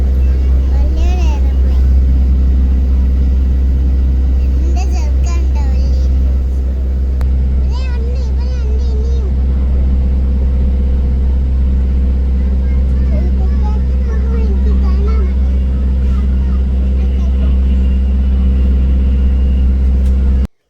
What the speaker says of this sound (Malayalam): ബസ്സിലാണ് ഞങ്ങൾ